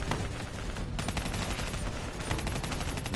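Sustained automatic gunfire aimed at an ADAM in the Call of Duty: Black Ops campaign, a loud, dense, unbroken rattle of rapid shots with heavy low-end rumble filling the whole stretch.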